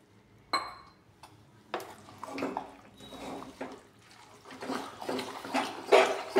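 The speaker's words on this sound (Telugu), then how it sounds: "కొద్దిగా వాటర్ పోయాలి దీంట్లో." Water is poured into a cooking pot of gongura dal with tamarind, heard as splashing and sloshing with stirring and clinks of utensils, close and fairly loud, no voices.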